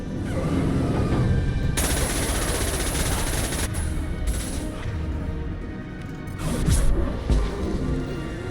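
Impact shot weapon fire in the Mass Effect 2 video game: loud, dense bursts of gunfire and crashing blasts that roll on for several seconds with no voices.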